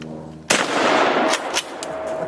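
A single loud gunshot fired at a propane tank, sharp and close, followed by a short ringing echo and a couple of faint cracks.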